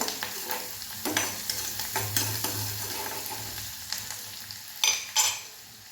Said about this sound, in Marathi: छान गुलाबी रंगावर आपल्याला कांदा परतून घ्यायचा आहे